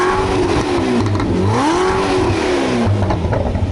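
A 1200hp Zenvo hypercar engine revs hard and roars past close by, its pitch sweeping up and down over a few seconds before fading.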